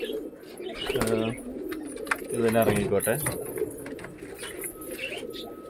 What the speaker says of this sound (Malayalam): അത് അവർ പ്രാവുകളൊക്കെ ഇറങ്ങിയിട്ടുണ്ട് കേട്ടോ.